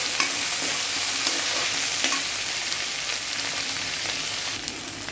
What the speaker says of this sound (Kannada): ಅದಕ್ಕೆ ಬೀನ್ಸ್ ಹಾಕ್ತಾಯಿದ್ದೀನಿ. ಇದಷ್ಟು ಸ್ವಲ್ಪ ಫ್ರೈ ಆಗಲಿ.